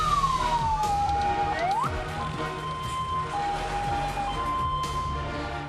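Fire engine sirens wail in a city street in Makassar during a blaze at shops and homes, with rising and falling tones over steady traffic rumble.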